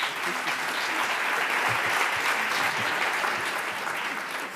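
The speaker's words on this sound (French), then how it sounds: "Et vous pouvez les applaudir." An audience applauds steadily and densely at the awards ceremony of the 30th International Fantastic Film Festival, a sustained wash of clapping from a large crowd with no talking over it.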